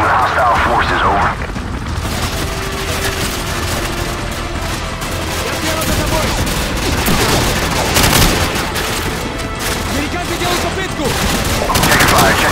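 Dense gunfire in Call of Duty 4: Modern Warfare, continuous loud volleys and booms mixed with battle noise, with voices shouting over the shooting.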